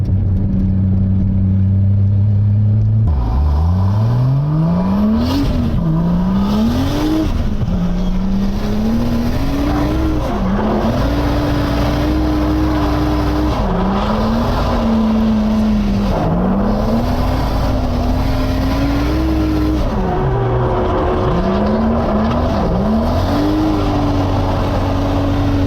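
A C6 Corvette drift car idles, then revs and shifts through a cool down lap, its loud engine note repeatedly rising and dropping in close, continuous pulls.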